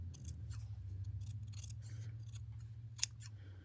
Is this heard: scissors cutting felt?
yes